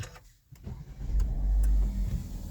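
Kia Sportage engine cranking and catching, a brief starter whir followed by a low, steady idle close by, with no talking.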